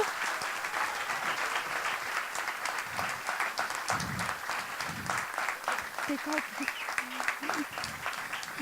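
An audience applauds at an interview event, a steady wash of clapping throughout with a few voices speaking over it toward the end.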